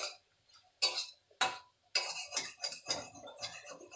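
A spatula scrapes and clinks against a pan while green methi leaves are stirred, a few sharp separate strokes at first, then a busier run of close scraping and tapping with no talk.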